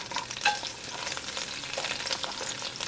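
Ginger and scallions crackle and hiss as they are stir-fried in a hot wok, a busy close sizzle with scraping stir strokes, steady throughout with no talking.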